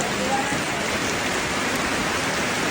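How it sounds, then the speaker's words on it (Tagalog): Heavy rain pours down steadily in a dense, loud, unbroken hiss, with no break or letup. "Mag-aantay lang kami na hinto yung ulan."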